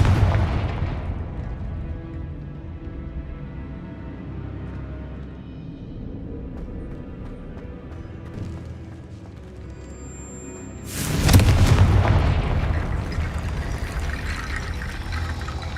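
Confringo spell blasts in Hogwarts Legacy: a heavy booming explosion at the start, a rumbling decay, then another loud burst with crackling debris near the end.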